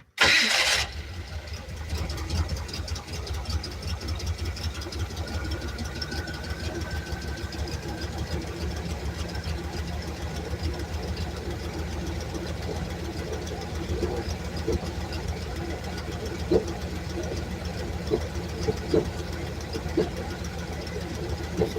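A car engine cranks and catches at the start, then settles into a steady, rough idle that runs on for about twenty seconds at moderate level with small knocks and irregular pulses, recently repaired and with brakes still needing bleeding.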